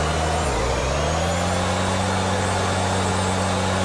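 A heavy truck's engine runs steadily and loudly throughout, a low mid-pitched drone with a brief dip near the start, while it drifts on all-season tyres across an airport surface.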